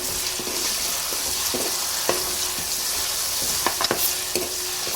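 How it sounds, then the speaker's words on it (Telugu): Ginger garlic paste frying in hot oil for a fish curry, a continuous crackling sizzle with scattered sharp clicks of stirring against the pan. "ఇది ఆయిల్లో మంచిగా వేగనివ్వాలి స్మెల్ పోయేంత వరకు వేగనివ్వాలి"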